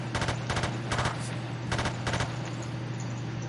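Battlefield 2 gameplay gunfire cracks out as short clustered bursts of shots over a steady low hum, fairly loud and close, with no talking.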